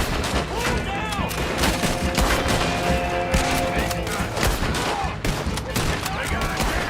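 Sustained gunfire in a Red Dead Redemption 2 bank shootout in Saint Denis, with dense overlapping shots and rapid bursts from a camping gun, loud and continuous throughout.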